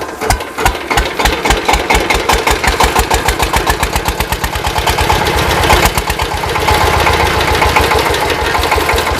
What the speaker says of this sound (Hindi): बायोगैस से जो गैस हासिल की गई है उससे ये पीटर इंजन चलाया हुआ